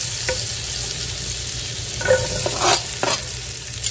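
Onions sizzle steadily in butter and olive oil in a pan, loud and close, with a few brief scrapes and stirs breaking through the frying hiss.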